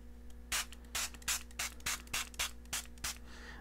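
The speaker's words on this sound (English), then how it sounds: "Then spray off our screen on our phone just a couple times." A spray bottle spritzes liquid onto a Samsung Galaxy Z Fold 3 phone screen after the protector is peeled off, giving about ten short, even hissing bursts in a steady rhythm, close and clear.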